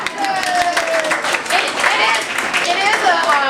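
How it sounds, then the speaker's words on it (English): Audience clapping for an award recipient at a high school allied soccer awards event, steady applause mixed with loud cheering and whooping voices throughout. "hey, Mike, we'll clap for you again"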